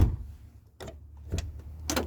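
A car door on a Ford Fiesta Mark III is shut, giving sharp, distinct clunks and latch clicks at close range in a quiet space, with no one speaking.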